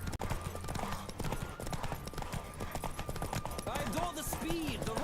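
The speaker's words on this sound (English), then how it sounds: "Horse." A horse gallops during a race in The Witcher 3 video game, rapid rhythmic hoofbeats drumming loudly and continuously, with a short whinny near the end and no talking.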